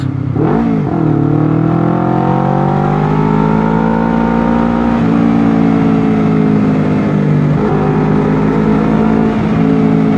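Honda CBR 250 RR twin-cylinder motorcycle engine revving up hard in Sport Plus mode while passing a car, loud close whine climbing in pitch with brief dips at gear changes, no talk.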